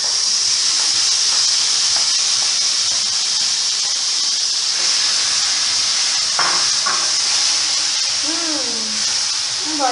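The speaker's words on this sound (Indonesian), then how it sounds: "Oke, sekarang aku tumis ya." Garlic and onions sautéing in a pan for a sweet-soy chicken curry give off a steady, loud hiss of steam and sizzle with a few faint squeaks near the end.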